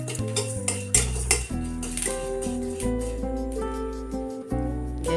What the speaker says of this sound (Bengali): পাঁচফোড়নটা ভেজে নিব